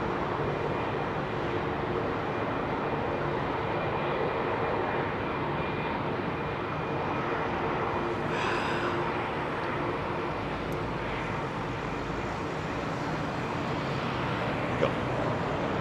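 A British Airways A380 airliner taxiing out of Terminal 5 at London Heathrow gives a steady, continuous jet engine roar at middle distance, broad and unbroken for the whole stretch with no talk over it.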